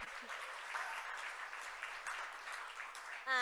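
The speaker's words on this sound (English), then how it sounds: "how about one more round of applause for Richa Murjani?" Audience at a summit gala gives a speaker another round of applause, a dense, even clapping that carries steadily for several seconds before a louder burst at the end.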